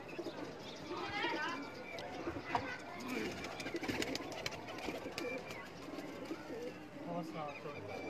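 Pigeons coo softly in a loft or rooftop setting, low repeated throaty calls mixed with faint chirps, while people talk over them nearby.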